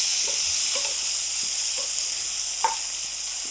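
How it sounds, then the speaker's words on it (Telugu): Eggs fry in hot oil with a pinch of turmeric, giving a steady, close sizzling hiss throughout, with soft scraping knocks from stirring every second or so. "ఎగ్స్ ఫ్రై చేస్తున్నా."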